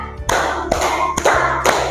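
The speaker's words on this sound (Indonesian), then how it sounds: "Coba sekarang tepuk 1, tepuk 2, tepuk 3, tepuk 4" A group clapping in counted unison claps, four sharp, loud claps evenly spaced about half a second apart, close by in a classroom-like room.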